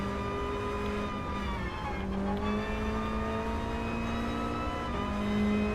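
A 1989 Mazda Eunos Roadster in Gran Turismo Sport drones with a steady, close engine note, its pitch holding through a lap with brief dips and shifts around two seconds and again near five seconds.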